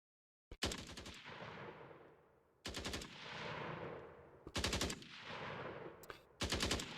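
Rifle gunfire in an Unreal Engine 5 game test: four loud bursts of rapid automatic shots, each followed by a long decaying echo tail, with no talking.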